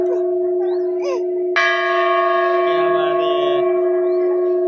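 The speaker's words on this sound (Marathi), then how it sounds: "बरं घंटा" A bell is struck once and rings out loudly, its long metallic tone lingering over a steady humming drone.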